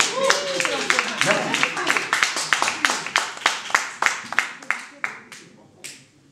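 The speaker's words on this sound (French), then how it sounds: "Il va applaudir. Applaudissez." Scattered audience clapping at a press conference, a burst of sharp hand claps that thins out into slower, isolated claps, with a brief spoken word near the end.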